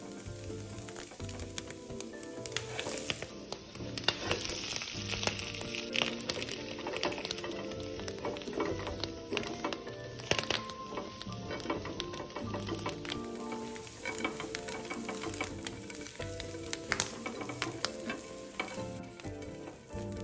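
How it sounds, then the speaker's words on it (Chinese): Rice cakes stir-fried with preserved radish in oil hiss and crackle continuously, broken by brisk repeated scrapes and clatter of the spatula, with no voices. "再加入适量的油，快速拌一拌，再将果饺倒入"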